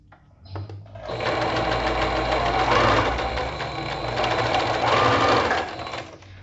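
A sewing machine runs in two steady bursts while stitching self-made fabric bias binding, with a brief pause between them for a backstitch at the start and end of the seam, close and clear.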